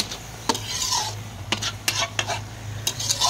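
A pan of tomato, cabbage, chilli, ginger, garlic and onion frying in oil gets stirred repeatedly, with quick rasping spatula scrapes and metallic clinks over a low, steady sizzle, close and without talk.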